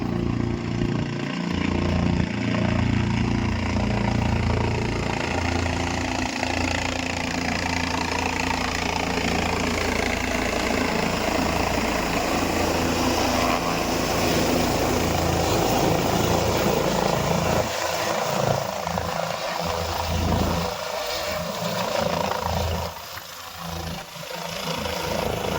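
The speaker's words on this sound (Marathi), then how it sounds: "मस्त हेलिकॉप्टर दर 2-2 मिनिटात हेलिकॉप्टर यायला" A helicopter flies near the Kedarnath helipad close to the temple on the mountain pilgrimage trail. Its rotor and engine roar stays loud and steady for about twenty-five seconds, thinning slightly near the end.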